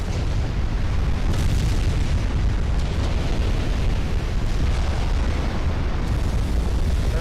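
A flash fire explosion tears through a warship in Ultimate Admiral Dreadnoughts, a loud sustained roaring rumble of blasts and fire lasting several seconds without letup.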